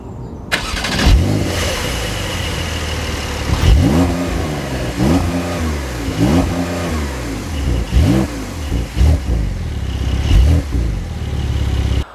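A Porsche 911 Carrera 4 GTS engine and exhaust revving hard, several loud rising and falling blips in a row over a steady idle rumble, close by and without talk.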